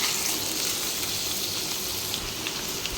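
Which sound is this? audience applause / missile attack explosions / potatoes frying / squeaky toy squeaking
potatoes frying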